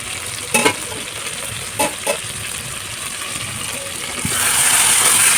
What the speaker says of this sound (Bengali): তো এটাকে আমি এখন ভালো করে কষিয়ে নিই।